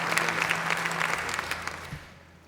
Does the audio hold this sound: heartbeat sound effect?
no